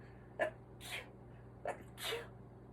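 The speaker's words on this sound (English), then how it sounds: "I'm gonna sneeze." Two sneezes, each a sharp intake followed by a bright burst, spaced about a second and a half apart, close and fairly quiet.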